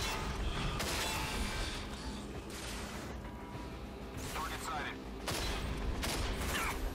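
Enemy gunfire in the shooter game Rage, rattling bursts of shots and mechanical clanks coming in uneven clusters, fairly loud under someone talking.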